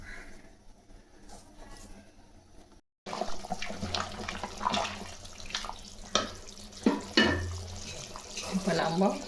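Soaked jeera samba rice for mutton biryani being rinsed and drained in a sink, with running water and sloshing splashes that start after a brief quiet moment and continue unevenly throughout.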